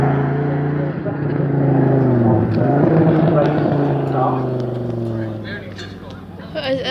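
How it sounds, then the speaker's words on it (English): A passing sports car with an 8-litre V10, signed by Paolo Pininfarina, rumbles loudly at a Bournemouth car festival, its deep engine note swelling and sliding in pitch as it goes by, with people talking over it. "And the rumble of a V10."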